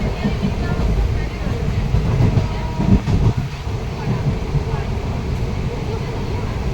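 Inside a moving train, a steady, loud rumble of wheels and carriage fills the whole stretch, with a brief surge of knocking partway through and no distinct pauses.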